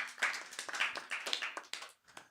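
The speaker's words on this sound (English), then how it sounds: "So give a round of applause, everyone, to all of us." A small audience claps at a jazz talk, scattered hand claps close together over about two seconds before thinning out, with no voices.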